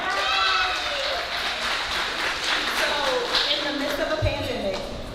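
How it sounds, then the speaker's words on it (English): A live audience gives sustained applause for a vocal coach, the clapping steady and fairly loud, with scattered voices under it. "Let's clap it up for Danelle"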